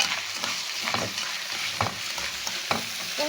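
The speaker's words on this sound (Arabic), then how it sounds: "وهبتدي اقلب الرز كويس كده" Rice and vermicelli sizzle in hot fat while a spoon stirs them, making soft scraping strokes at irregular intervals over a steady close frying hiss, during cooking for green beans with meat.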